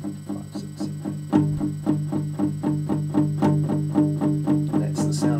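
Palm-muted strumming on a guitar, a steady train of short, damped downstrokes in an even rhythm, close and moderately loud, with no voice over it.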